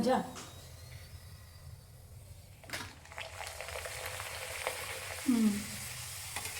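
Ragi pappad frying in hot oil on a gas stove gives a soft, continuous sizzle with a few louder bubbling bursts, while people talk nearby.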